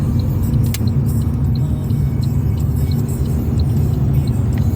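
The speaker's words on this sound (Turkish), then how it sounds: "Evet bastım debriyajıma vitesim 2. Yavaşça kaldırdım debriyajımı." A car pulls away in second gear during a driving lesson on a practice track in Altınoluk, with the clutch released slowly. A steady, close engine hum and road rumble continue without talk.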